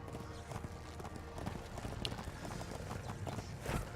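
Donkey hooves clip-clop steadily in the online game ArcheAge, a faint, continuous patter of light footfalls with no talk over it.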